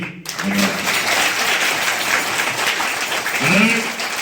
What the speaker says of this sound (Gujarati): તે બદલ આપણે એને તાળીઓથી